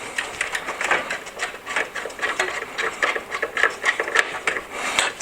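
Screwdriver tightening the screws on a mini-ITX PC build, giving a steady run of small scraping, ratcheting rasps and clicks at close range, with no talk.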